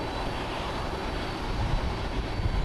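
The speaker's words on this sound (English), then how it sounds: "It's an Airbus A320neo, 4 years old." An Airbus A320neo airliner at Haneda Airport in Tokyo gives a steady, broad jet engine roar, loud and continuous throughout, with no voices.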